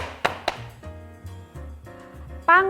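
A baking tin holding layered batter for a rolled legit cake is tapped twice in quick succession, giving two sharp knocks over a soft, steady tonal background.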